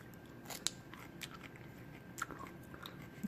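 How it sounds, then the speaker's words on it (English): Someone chews the tough, fibrous core of a pineapple up close, giving faint, quiet crunches and bites spread unevenly over a few seconds. "I've been trying to get used to chewing the core of the pineapple"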